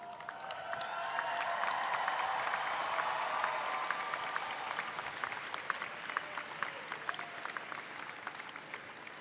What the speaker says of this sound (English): give them a loud cheer to thank them for their support and faith in you